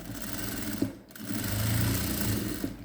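A sewing machine stitches along a silk saree being made into a gown, running in a close, continuous buzzing whir that dips briefly once before carrying on.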